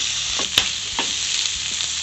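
Egg and masala sizzle steadily in a hot pan while Maggi noodles are being made, a constant close frying hiss with a few soft stirring clicks and no speech.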